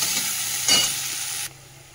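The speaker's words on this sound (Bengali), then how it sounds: "পেঁয়াজটা একটু ভেজে নিই" Onion fries in a hot kadai over a lowered gas flame with a close, even sizzle, a brief louder stirring burst midway, then a sudden drop to a faint hiss.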